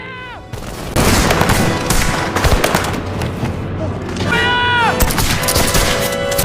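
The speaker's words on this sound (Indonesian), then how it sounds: "Tembak-menembak antara warga Prancis dan pasukan Raja Louis pun pecah." Battle gunfire from rifles and cannons as French citizens fight the king's troops at the Bastille, with a rapid barrage of shots, heavy booms and descending whistling tones, loud and dense across the whole stretch.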